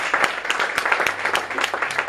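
A church congregation gives a dense round of applause at a Sunday morning service: many hands clap continuously at moderate volume, steady throughout, with no talk over it.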